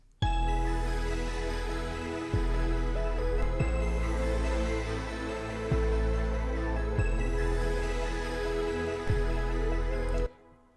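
A dense electronic mix with a deep, booming kick and low bass thumping at regular intervals beneath layered synths and chords, mixed in Logic.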